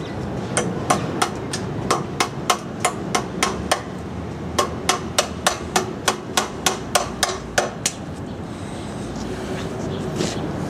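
A hammer drives a nail into wood being set up for a DeWalt DCS380B reciprocating saw cut: two bursts of sharp, evenly paced strikes, about two dozen in all, close and loud with no talking.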